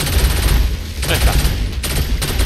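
Rapid, dense gunfire from an electric-ammunition weapon in Saints Row IV, a loud continuous rattle with brief surges of crackling bursts, heard up close throughout.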